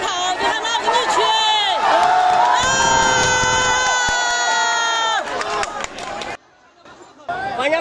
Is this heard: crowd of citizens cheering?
yes